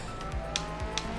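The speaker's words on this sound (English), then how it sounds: "Especially driving in the snow with this completely different car." A rally car in the Art of Rally video game drives through snow with a steady engine drone and short gear-shift sweeps, heard clearly and continuously with no voices.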